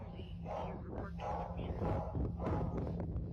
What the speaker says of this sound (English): As Britt is outside, Josie can be heard barking aggressively inside her house.